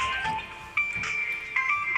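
An electronic phone ringtone plays, a bright repeating melody with steady tones, fairly close and clear with no talking.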